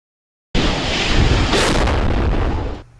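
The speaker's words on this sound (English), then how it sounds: "A catastrophic explosion shaking the grounds, our cameras, and the lives of two families" A sudden catastrophic explosion in a small Tilford neighborhood: after half a second of silence a loud, sustained roaring boom erupts, rumbling for about two seconds before fading.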